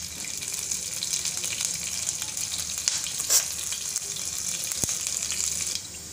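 Green chilies frying lightly in oil for a Rayalaseema-style cabbage fry, a steady close broadband sizzle running through with a few sharper crackles and pops, no talking.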